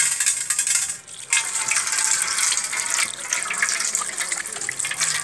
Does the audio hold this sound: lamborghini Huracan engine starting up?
no